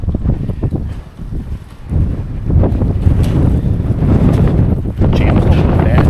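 Strong wind buffets the microphone outdoors near garage doors in continuous low rumbling gusts, loud and unsteady throughout.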